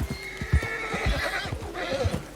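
A startled horse whinnies in shrill rising and falling calls over a steady run of hoof clip-clops, close and clear, with no talking.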